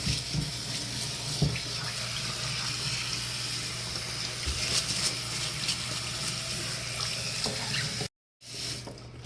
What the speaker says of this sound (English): So I'm rinsing really good.